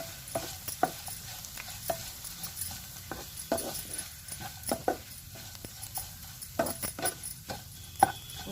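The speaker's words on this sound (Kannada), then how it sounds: "ಇದಾದ ತಕ್ಷಣ ತೆಂಗಿನಕಾಯಿ ತುರಿ ಹಾಕಿದ್ದೀನಿ. 1-2 ಸುತ್ತ ಆಡಿಸ್ಕೋಬೇಕು ತೆಂಗಿನಕಾಯಿ." Grated coconut being stirred and fried in a pan for avalakki oggarane, with irregular scraping and tapping strokes of a spoon against the pan over a faint, quiet sizzle, close by, with no talk.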